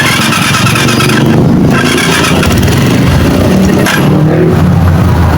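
A Rusi KRY200 motorcycle engine runs loud and close after a CDI repair, a steady raw idle with brief rises in revs, and no voices are heard.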